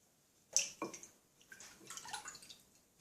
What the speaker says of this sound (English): So I'll go ahead and pour myself 1 cup